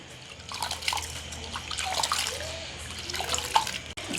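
Lentils being washed by hand in water, with soft sloshing, trickling and dripping sounds close by in a quiet village kitchen.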